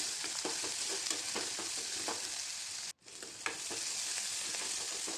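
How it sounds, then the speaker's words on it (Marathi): Dried chillies, onion and fenugreek with cumin and mustard seeds sautéing in a pan, a steady soft sizzle with light rhythmic stirring strokes and a brief dropout partway, no voices. "सुक्या मिरच्या कांदा मेथी सर्व एकत्रित मिक्स करायचं थोडं परतून घेऊ"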